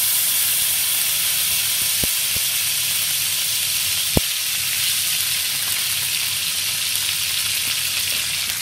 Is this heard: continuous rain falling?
no